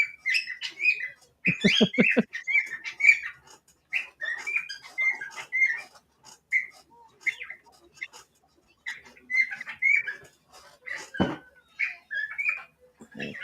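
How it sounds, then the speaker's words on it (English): Busy parakeet chatter fills the clip: quick high chirps and tweets in bursts, fairly close, with a few louder squawks and short pauses between runs. "My parakeet's very mouthy."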